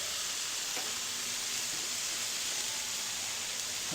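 Smashburger patties and onions sizzle steadily on a Wolf griddle, a dense, even frying hiss with occasional spatula scrapes, close and continuous with no talking.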